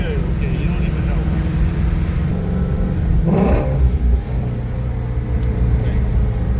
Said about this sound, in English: Full speed ahead.